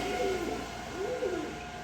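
Male racing pigeons give a soft, faint coo with a gently rising and falling tone, heard once or twice against a quiet background hum.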